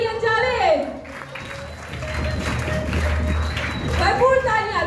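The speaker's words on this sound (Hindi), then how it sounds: "भरपूर तालियां" Applause from a crowd at a school prize distribution ceremony, a continuous wash of clapping running under an announcer's amplified voice that speaks at the start and end.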